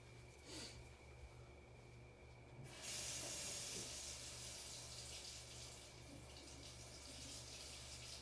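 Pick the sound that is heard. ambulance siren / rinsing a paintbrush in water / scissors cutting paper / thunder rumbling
rinsing a paintbrush in water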